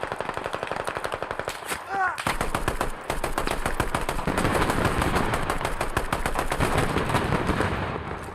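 Rapid semi-automatic hip-fire gunshots in a shooting video game, a loud close continuous string of cracks that runs almost the whole time, with a short break before the firing resumes.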